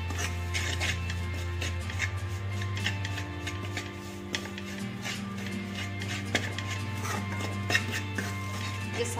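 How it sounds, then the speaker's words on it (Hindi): Spices, including ajwain, red chili and salt, are dry-roasted and stirred in a pan, with a continuous scraping and rasping of the spoon over a steady low hum. No speech is heard. "अब इसको अच्छे से भून लेना है।"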